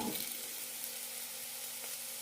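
Potatoes added to a frying spiced masala in a pan, making a steady close sizzle that fades slightly after an initial burst, with no voices.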